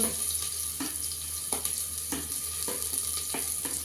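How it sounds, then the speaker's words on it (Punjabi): Garlic and green chilli tempering sizzles steadily in a hot pan, with cumin already browning in the oil; a continuous close frying hiss with small pops, no voices. "ਤੜਕਾ ਆਪਣਾ ਭੁੱਜਣ ਲੱਗ ਗਿਆ ਜੀ"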